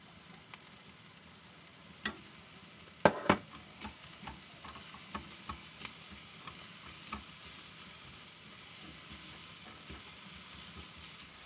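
Chilled rice fries in a hot pan with a soft, steady sizzle while a utensil stirs it, giving scattered scraping clicks and a couple of louder knocks against the pan.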